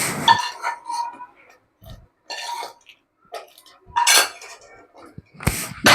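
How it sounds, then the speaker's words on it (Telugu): Sweet rice mixed with dry fruits being stirred in a pot, giving intermittent clinks and scrapes of a utensil against metal in short bursts, close and fairly loud, with no talking. "దీన్ని చక్కగా ఇప్పుడు మళ్ళీ కలిపేస్తాం."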